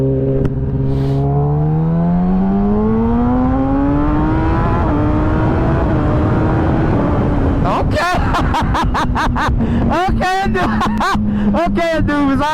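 A 2017 Kawasaki ZX10R with a flashed ECU and quick shifter revs at partial throttle, its loud engine note climbing in pitch over several seconds then holding steady while people talk loudly over it nearby.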